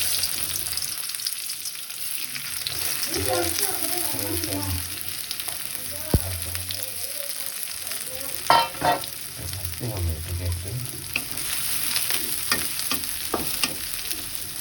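Onions sizzle and crackle in hot oil while a dish of wet dried fish is cooked, a steady frying hiss with occasional stirring scrapes and clatters throughout.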